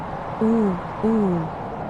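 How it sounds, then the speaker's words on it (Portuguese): An owl gives two low, close, clear hoots about half a second apart, each gliding slightly downward, over a quiet background. "Era o canto grave de uma coruja que parecia estar bem perto"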